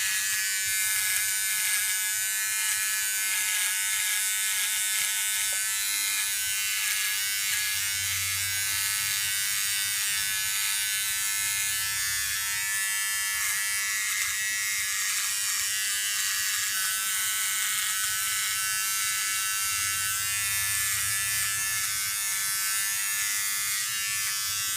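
A Remington Durablade electric razor shaving off sideburns, its close, steady buzzing motor running continuously, with slight changes in tone as it moves against the skin.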